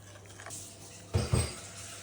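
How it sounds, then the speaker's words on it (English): A spoon stirs chocolatey banana bread batter with porridge oats in a bowl, soft scraping broken by two distinct clinks against the bowl, close and fairly quiet. "Now we need to stir it all."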